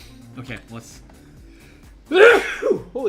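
A loud, abrupt sneeze bursts out near the mic after a stretch of quiet speech, followed by a couple of short breathy aftershocks, during a tabletop card-game design session.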